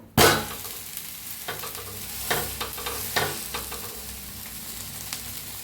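Fish fries in oil in a pan and is turned over: a steady close sizzle with a few soft clattering bursts as the pieces are flipped, and no talking.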